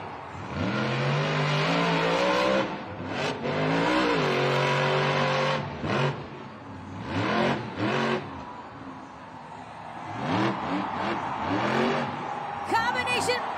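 A Monster Jam monster truck roars through a freestyle run, its engine revving in repeated loud surges and drops while an excited announcer talks over the action.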